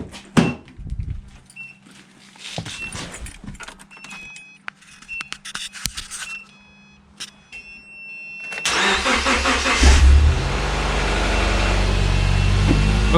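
A car's engine cranks and fires up after a dead battery on a cool high-desert morning, preceded by clicks and small handling noises, then a loud, steady running roar near the microphone with no talk.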